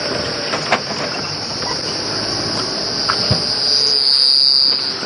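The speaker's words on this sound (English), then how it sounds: "That was a cricket there." A cricket chirps outdoors on a late-afternoon safari drive, a loud, steady high-pitched trill running through the whole stretch with a couple of faint clicks and a slight swell near the end, with no talk.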